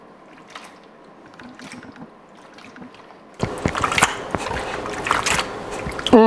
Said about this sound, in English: Yeah, that's the sound of pasta right there.